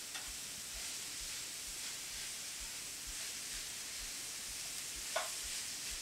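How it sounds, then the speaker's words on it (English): Seasoned greens sauté in a pan as a faint, steady hiss, with soft ticking and one small clink of a utensil near the end. "we're just going to saute these until they wilt down"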